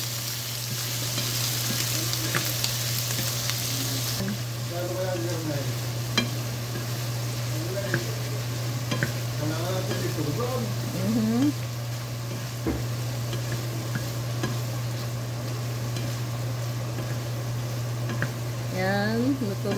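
Shrimp sizzle and fry in a hot pan for noodle toppings, with steady frying hiss throughout and repeated scraping stirs of a utensil against the pan; a constant low hum runs underneath.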